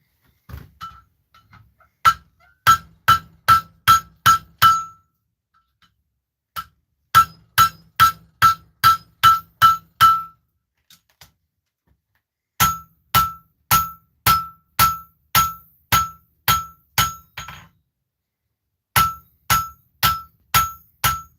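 A blacksmith hammers hot metal over an anvil horn, making sharp ringing metallic strikes in fast bursts of about six to ten blows separated by short pauses, loud and close with no talking.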